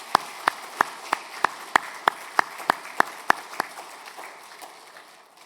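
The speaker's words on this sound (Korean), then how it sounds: "큰 박수로 환영하겠습니다." Church congregation clapping to welcome new members during a Sunday service, heard as a steady run of evenly spaced, sharp claps that gradually soften and fade out.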